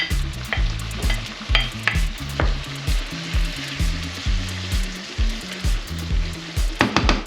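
Prawns and mussels fry with softened tomato in a pan, a loud close sizzle with repeated stirring and clinks of a utensil against the pan, steady throughout and without any voices.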